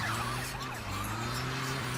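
Police siren from the top-down driving game GTA 2, wailing steadily over a constant car engine hum throughout a short chase moment, with no talk.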